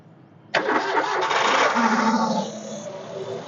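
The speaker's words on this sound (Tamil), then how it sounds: "வண்டியோட லைவாக சவுண்ட் எப்படி இருக்குது அப்படிங்கிற ஸ்டார்ட் பண்ணி காட்டுறேன்" A used petrol Suzuki Wagon R engine cranks and catches with a sudden roar, then settles into a steady, slightly quieter idle.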